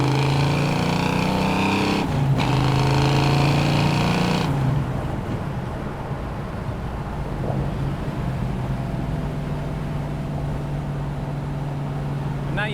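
A 1968 Dodge Charger with a 440 cubic-inch big block engine drives on city streets, its deep rumble and rising revs loud early, then settling into a steadier lower drone heard from inside the car.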